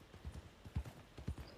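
Horse hooves clip-clop on the ground in the Western game RedM: a steady walking rhythm of soft, fairly close thuds, about a dozen steps, faint and with no talk.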